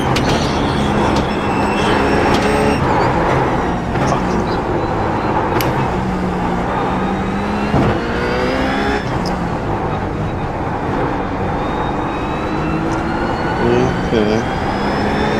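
Race car engines roar continuously in the iRacing sim, with rising and falling gear-change sweeps and a steady loud drone throughout, a voice faintly present underneath.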